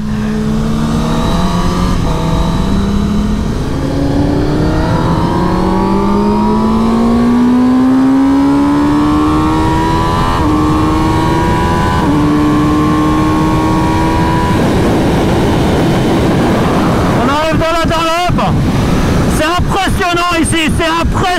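A 2021 Kawasaki ZX-10R sportbike laps the Bugatti circuit at Le Mans, its engine screaming up through the gears in long rising sweeps with brief drops at shifts, loud and close, a voice talking over it.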